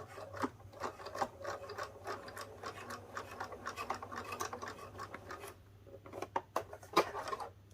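A sewing machine stitches straight across a fabric tab with a quiet, rapid ticking rhythm that holds steady for several seconds, pauses briefly, then resumes with a few louder clicks.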